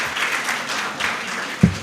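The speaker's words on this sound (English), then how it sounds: "please an applause for her and her husband" A brief burst of audience applause at a mental health awareness gathering rises and falls in uneven waves, ending with a sharp low thump.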